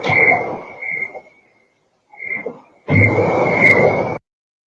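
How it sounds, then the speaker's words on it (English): A loud cricket chirps in a steady, piercing high trill that comes in two long bursts over rustling noise, with a brief quieter patch between them. "That cricket is loud."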